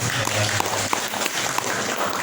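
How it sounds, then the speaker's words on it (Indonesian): Audience applause in a hall during a madrasah visit in Jombang, heard as a dense, steady wash of clapping with a low hum underneath and voices mixed in. "Tepuk tangan dong."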